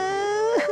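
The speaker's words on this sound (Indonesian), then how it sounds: "terdengar suara tangisan anaknya dari dalam kamar" A child's crying sound effect in a narrated story: a single drawn-out, wavering wail with a sharp rising and falling break near the end, fairly loud and alone without talk.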